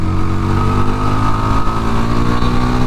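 Yezdi Scrambler motorcycle exhaust rumbling steadily up close, a loud continuous low engine note with no talk.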